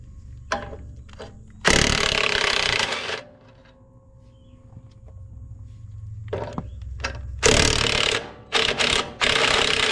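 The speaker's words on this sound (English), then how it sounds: "We'll take these 4 bolts off from here." Bolts being removed from a collar on a Vermeer 5410 Rebel baler, with long loud bursts of a power tool broken by quieter gaps and a few short clicks, close by.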